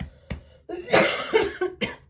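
A person coughs several times in quick succession, harsh and close, with short pauses between the bursts.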